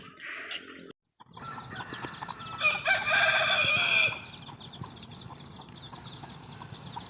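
A rooster crows once, loud and close, amid morning farmyard ambience at a rural home in Laos with ducks, chickens and pigs; a short sharp noise comes just before, and quieter background sounds follow.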